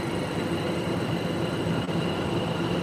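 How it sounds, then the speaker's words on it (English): Continuous low rumble of an electric train at London Liverpool Street station with steady humming electric motor tones running through it, moderately loud and unchanging; no voices. "You hear the electromotor."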